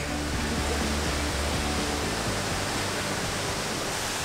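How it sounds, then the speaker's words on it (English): Sgwd Pannwr waterfall in the Brecon Beacons, South Wales, roars as a loud, dense, unbroken wall of crashing water close by, with a low rumbling undertone and no talk. "So this is actually the 3rd waterfall"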